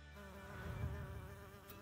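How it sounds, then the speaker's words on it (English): A bumblebee collecting pollen gives a steady, close, continuous buzz with a strong droning hum that swells slightly midway, heard alone without talk. "Why do bumblebees buzz?"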